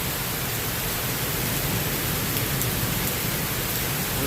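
Steady rain hisses without a break, a loud, dense broadband wash that holds even throughout, with no voices over it.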